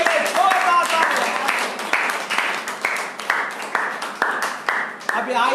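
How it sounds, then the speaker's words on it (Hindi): A worship congregation applauds in a church service, giving steady, lively clapping with rhythmic peaks while a voice and shouted praise carry over the top. "यीशु मसीह के लिए जोरदार तालियां"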